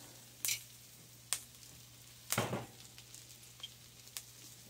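Jalapeños and fajita meat frying in a pan, a quiet steady sizzle with a few sharp pops and crackles spaced through it, close by with no talk.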